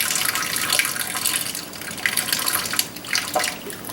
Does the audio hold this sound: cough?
no